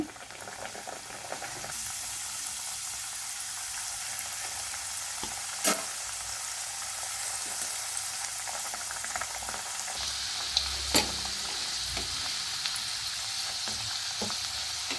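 Sweet badam puri frying in hot oil, a steady close bubbling sizzle that holds for the whole stretch, with a few sharp clinks and a brighter burst of spattering partway through as more dough goes in.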